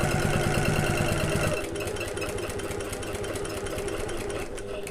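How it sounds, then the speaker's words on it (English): A domestic sewing machine runs steadily while stitching a bag at its longest stitch length, giving a loud continuous mechanical whir with a rapid, even needle rhythm that eases slightly in pitch partway through. "Then I'm going to increase my stitch length to the longest stitch length and sew to the next set of double pins."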